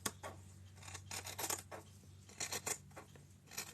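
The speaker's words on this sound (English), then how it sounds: "I'm going to cut off this top edge because I don't want this top edge here" Scissors snip off the top edge of a piece of fabric while a small fish dice trinket bag is being made, giving several crisp close cutting strokes in uneven bursts with quiet rubbing between them.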